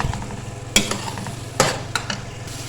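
Carrot halwa being roasted in a pan, a soft background sizzle broken by three distinct scraping stirs of a spoon against the pan, close and brief with no voices.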